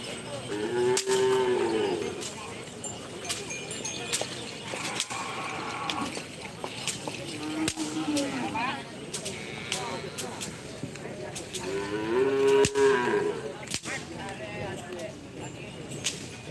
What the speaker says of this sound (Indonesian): Ini sapi Jawa guys.